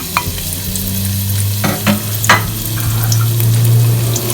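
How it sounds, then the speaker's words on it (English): Grated garlic sizzling in two tablespoons of olive oil in a pan at the start of carrot fried rice, a steady close frying crackle broken by a few scrapes and stirs. "first we have here 2 tablespoons of olive oil, and I'm going to add 3 grated garlic."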